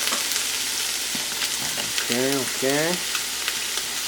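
Onions fry in olive oil under a steady broadband sizzle while being stirred, with a couple of short spoken words over the hiss partway through.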